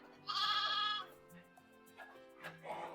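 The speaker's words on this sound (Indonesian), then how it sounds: "Ini adalah pejantan domba Garut kami" A Garut sheep ram, a heavy breeding male of around 80 kilos penned in a farm shed, lets out one loud, drawn-out bleat near the start, then a few fainter shorter calls under soft background talk.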